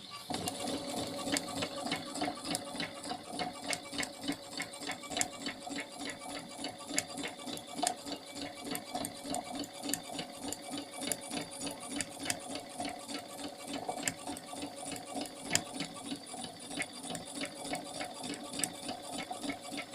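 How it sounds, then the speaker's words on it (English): A sewing machine stitches fabric for a Gryffindor-themed cushion, a fast, even mechanical whirr with rapid needle ticks running continuously and up close for the whole stretch. "so that we can sew them together on the machine"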